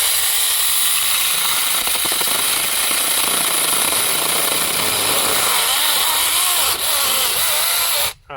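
A small Chinese-made portable pole chainsaw saws through wood in a forest with a loud, continuous high buzzing snarl close up that holds steady until it cuts out abruptly at the end.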